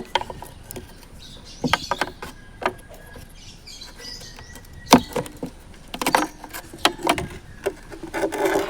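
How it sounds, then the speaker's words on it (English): Plastic taillight bulb sockets on an Isuzu mu-X being twisted and pulled free, a run of close, sharp clicks and knocks with scattered rattles and a few firmer snaps, no talking. "To remove, we just twist to the left and pull it out."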